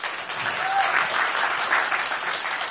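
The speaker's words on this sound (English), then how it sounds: "So just a huge round of applause for Eve." A conference audience at a tech talk in Belfast gives a speaker sustained applause, an even wash of many hands clapping at moderate volume throughout, with no talk on top.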